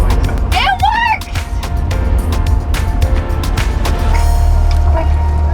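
The engine of a restored 1965 Ford Falcon idles close and loud with a steady low rumble, while people talk excitedly over it.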